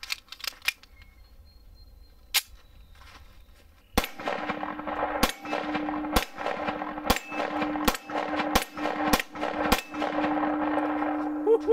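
Pistol shots firing Lehigh Defense 120 grain Extreme Defense bullets, a series of loud sharp cracks spaced about a second apart outdoors in the sun, with a short ringing tail after each, no talking.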